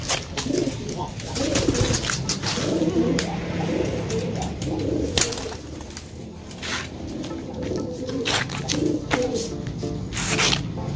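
A Losdor pigeon coos repeatedly at close range, soft throaty rumbles recurring through the stretch amid light rustling and clicks from the surroundings.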